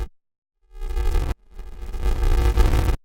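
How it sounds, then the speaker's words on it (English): A synth pad crushed by Ableton Redux bit reduction and downsampling becomes a gritty, noisy, distorted wash, heard in two loud bursts with abrupt cutoffs and silence between. "but if I apply the bit reduction with downsampling on, it sounds like this."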